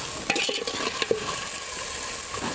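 Onion and tomato with salt fry in a pan, a constant bright sizzle with a few brief clinks and scrapes of stirring near the start, no one speaking.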